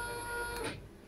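A Nema 34 stepper motor fitted with oil-filled dampers runs with a steady whine and tonal hum, fairly quiet and smooth, easing off slightly near the end.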